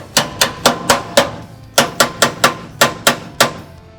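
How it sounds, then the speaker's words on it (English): A tool hammers a part into place in a 1970 Challenger restoration. About twelve loud, close metallic whacks come in two quick groups with a brief pause between them. "Let's grab a whacking device here and see what we can do."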